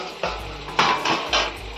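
A metal lid clanks and scrapes as it is lifted off a pot steaming a pumpkin and prawn dish, giving a few sharp, close knocks in quick succession.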